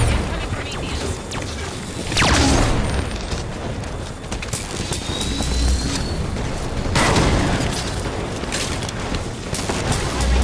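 Gunfire in the Halo 5 video game crackles in near-continuous bursts, with heavier booms swelling every few seconds amid a dense, loud battle din and some talk.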